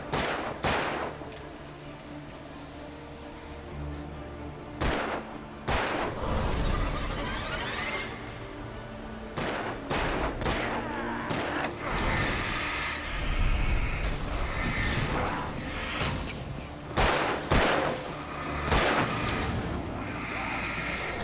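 Bursts of gunfire from the video game Alan Wake ring out across a long stretch, sharp loud shots scattered irregularly over a rumbling, busy game soundscape, with occasional voices underneath.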